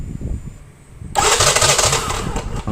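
Yamaha Mio Soul GT scooter with fuel injection cranks briefly after a short pause, then catches and settles into a close, steady idle with a bright whine on top.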